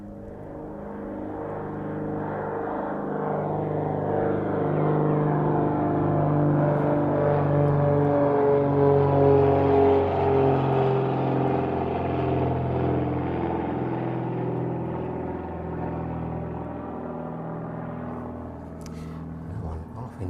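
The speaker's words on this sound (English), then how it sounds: "Sounds like that Vulcan Air is making its way down the runway now. There you go, that one just lifting off." A Vulcan Air aircraft at East Midlands Airport rolls down the runway and lifts off, its propeller drone swelling to a loud, close peak midway and then slowly fading, heard alone without talk.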